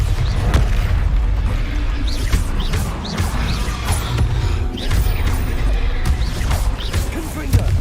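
The Bombarda blasting spell detonates in Hogwarts Legacy, a series of booming, crashing impacts amid a dense, loud combat din, with a voice speaking at times.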